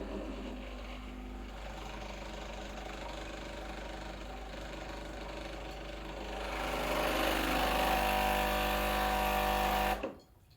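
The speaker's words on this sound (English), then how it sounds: "do another blank shot. This time to rinse off the head and the group portafilter." A Breville Dual Boiler BES900 espresso machine runs a blank rinse shot, its pump humming steadily and then growing louder and fuller partway through before cutting off abruptly near the end.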